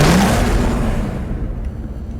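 An Audi TT RS engine in the racing game Hot Pursuit roars loud and close, its pitch climbing briefly at the start before settling into a steady, fading growl.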